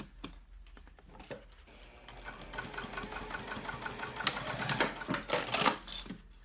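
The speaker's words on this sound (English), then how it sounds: "what I'm doing is I'm just stitching and I'm following the curve" A sewing machine stitches fabric along a curve, starting with a few slow taps and then running in a steady rapid clatter up close, easing off at the end.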